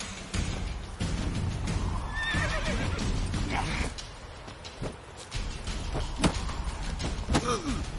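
A horse neighs amid busy background noise and scuffling, with a short whinny standing out partway through and hoof-like clip-clops and thuds scattered around it.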